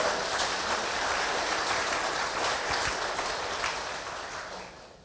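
Dense, sustained applause fills a church congregation during a sermon, a steady wash of many hands clapping that tapers off toward the end.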